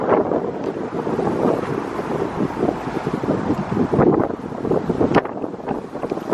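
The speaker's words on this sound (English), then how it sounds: "It's at the beach." Wind buffeting the microphone at a beach, with rushing gusts and the wash of waves blending into a loud, continuous roar.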